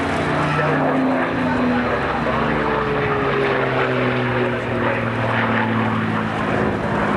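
Steady droning roar of a twin-engine propeller bomber flying at the 1991 RAF Valley Air Show on Anglesey, with a low throbbing hum, continuous and fairly loud throughout.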